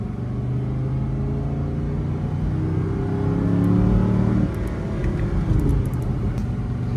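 A rebuilt Audi R8 engine hums steadily while driving, its low rumble rising slightly as it accelerates, with no talking.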